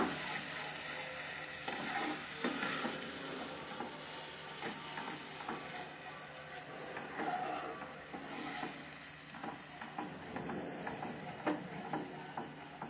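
Food cooks in a hot pan with a steady broadband sizzle, punctuated by scraping and clicking as it is stirred; no one speaks.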